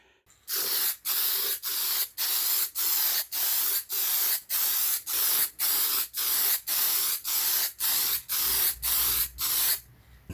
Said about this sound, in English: I'm going to put some clear lacquer on it for the vinyl to stick to.